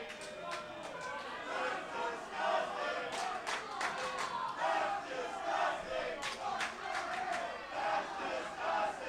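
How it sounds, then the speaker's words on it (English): A crowd at a live professional wrestling event cheers, yells and chants, with rising and falling waves of shouting and sharp individual calls all the way through. "Crowd's fired up here tonight."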